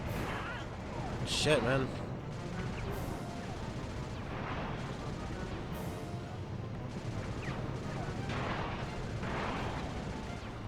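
Gunfire in the video game Sly Cooper 2 rattles in repeated bursts against a dense background of game noise, with one sharp crash early on and a man briefly swearing in exclamation.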